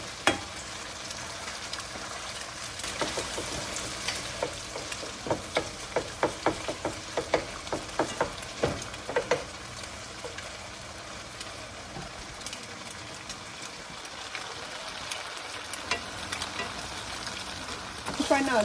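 Eggs frying in oil in a pan while cooking drunken noodles (pad see ew), a steady close sizzle with scraping stir strokes and light clinks running throughout.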